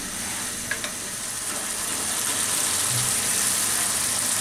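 Prawns and soybeans with ground coriander and chili powder fry over raised heat, giving a constant, dense sizzle close up with a couple of small utensil clicks near the start.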